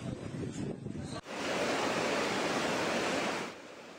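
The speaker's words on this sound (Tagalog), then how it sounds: "Ganito naman kalakas ang hangin sa Camotes Island na nasa signal number 4." Typhoon-force wind and surf under storm signal number 4 on Camotes Island: a roaring, continuous wall of wind and crashing waves that lasts about two seconds, then eases off, after a quieter stretch of gusty, blustery noise.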